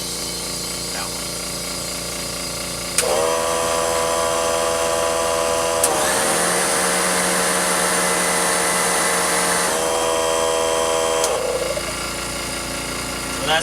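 An air compressor drones steadily close by, its pitch shifting as it loads up and then easing back to a lower, continuous hum, with no talking over it.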